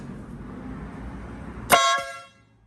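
A loud, brassy air horn on a Piaggio MP3 530e S motorcycle blasts once, short and sharp up close after a low background hum, then cuts off quickly.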